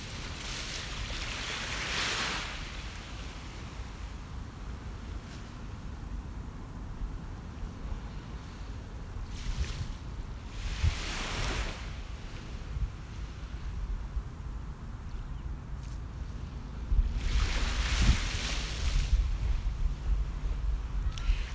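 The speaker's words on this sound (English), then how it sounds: "listen to a couple more waves crash the shore" Waves break on the shore three times, each swelling into a washing roar and fading, over a soft steady surf background.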